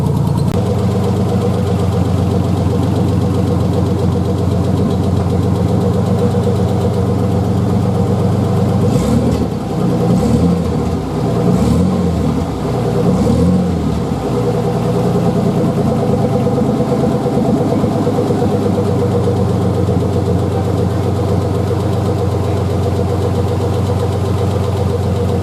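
A Ford 4.0 engine idles steadily just after a valve cover gasket job, a smooth continuous rumble close by with a few brief surges partway through, no voices.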